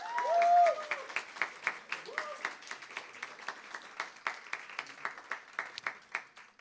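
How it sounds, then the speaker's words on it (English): An audience at a student radio awards night applauds, a modest round of clapping with distinct individual claps standing out, a voice briefly heard at the start, tapering gradually in strength. "So let's give them a round of applause."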